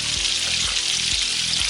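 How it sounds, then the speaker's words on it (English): Sausage and onions sizzle loudly in a pan while being stirred, a thick continuous frying hiss with a few scraping strokes of the utensil at regular intervals, close and without speech. "onions are cooked and the sausage is browning, and we're just going to give it a stir"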